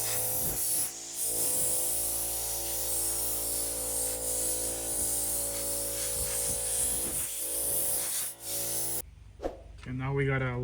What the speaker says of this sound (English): get a compressed air, blow anything out of here that you can